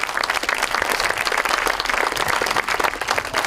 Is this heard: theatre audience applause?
yes